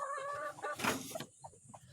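A black mother hen clucks close by in a backyard coop with newly hatched chicks, a few short throaty clucks followed by quieter soft calls.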